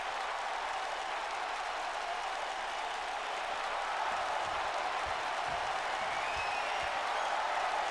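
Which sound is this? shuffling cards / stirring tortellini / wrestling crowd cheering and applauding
wrestling crowd cheering and applauding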